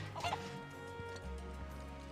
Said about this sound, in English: No, chicken!